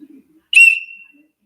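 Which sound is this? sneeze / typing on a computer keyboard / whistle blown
whistle blown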